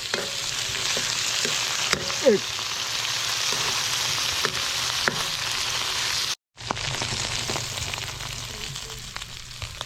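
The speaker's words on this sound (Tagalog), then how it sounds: "pagka nagisa na po natin maigi yung isda, yung buro" Fermented fish (buro) sautéing in a pan, a steady close sizzle and frying crackle with occasional stirring scrapes and a brief break in the sound.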